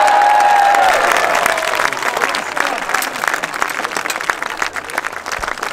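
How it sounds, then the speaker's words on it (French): A crowd at a medieval festival applauds sword fighters after a bout, with dense, loud clapping throughout, a short whistle at the start, and voices calling over it. "Je vous demande de les applaudir encore plus fort"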